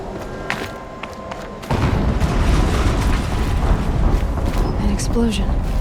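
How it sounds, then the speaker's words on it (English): A heavy explosion in the video game Horizon Zero Dawn erupts after quieter sounds, becoming a loud, sustained low rumble that fills the rest of the moment. "Explosion."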